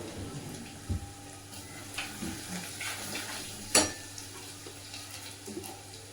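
Garlic tempering sizzles in oil as asafoetida, turmeric and red chilli go in, a quiet steady crackle with a few soft clinks of a utensil and one sharper metallic knock.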